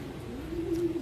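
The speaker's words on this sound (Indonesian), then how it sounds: "Ini kebetulan ada satu ekor merpati pos Dewasa." A single adult female carrier pigeon coos softly once, a short low murmuring call close by over a quiet background.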